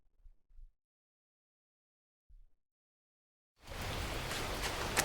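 Steady rain in the survival game The Last Plague: Blight sets in as an even, hissing downpour after near silence broken by a few faint low thumps.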